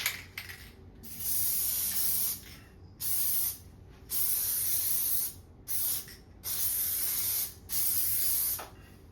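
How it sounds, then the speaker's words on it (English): Spray adhesive from an aerosol can hisses onto peeled drywall paper in a laundry room remodel, in six bursts of varying length separated by short gaps, close and steady with no talking. "I'm going to use some spray adhesive"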